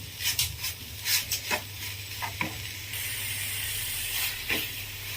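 Grated coconut and sugar fry in a pan for coconut burfi, giving a steady soft sizzle broken by several close scraping stirs of a spoon against the pan, with no talking.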